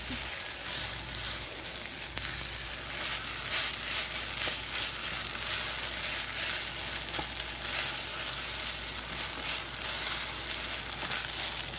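Ketchup being stirred into food frying in a pan, a steady broadband sizzle running throughout with faint scraping of stirring mixed in, fairly close and even in level with no talk.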